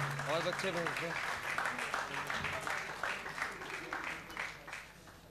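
An audience applauds Rashid Khan at a university art felicitation ceremony, with steady clapping from a crowd that carries on beneath someone speaking over it, moderately loud.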